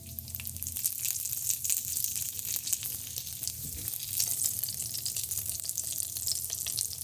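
Chinese sesame scallion bread pan-fries over medium-low heat, a dense, even crackling sizzle that runs close and constant throughout with a low hum beneath it.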